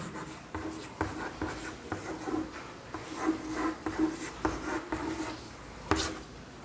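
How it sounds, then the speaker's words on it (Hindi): Chalk or marker writing on a board during a classroom lesson, a run of scratchy strokes and taps spread over several seconds at moderate loudness, with no speech over it. "तो मैं लिखता हूँ यहाँ पर"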